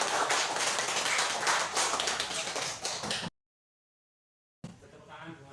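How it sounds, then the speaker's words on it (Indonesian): A classroom of children claps for a few seconds, a busy patter of hands, before a brief silence and quieter room noise. "Tepuk tangan buat Siva."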